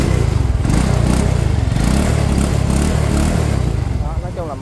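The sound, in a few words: used motorcycle engine running smoothly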